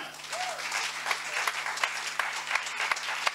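A church congregation applauds during a Sunday service, producing sustained, dense clapping with a rhythmic pulse of accented beats and a faint hum beneath.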